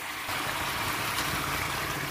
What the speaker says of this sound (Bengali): আলু দিয়ে সুন্দরভাবে নেড়ে চেড়ে ঝোলের জন্য পানি দিয়ে দিব।